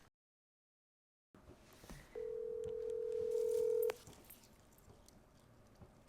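A phone call being placed on a flip phone: after a moment of silence, faint room sound gives way to a single steady ringing tone lasting under two seconds, then quiet background returns.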